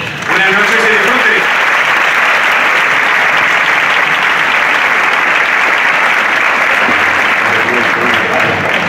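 Sustained audience applause fills a live copla concert hall in Córdoba, a dense, loud wash of clapping from a large crowd that holds steady throughout, with a few voices and faint music notes underneath.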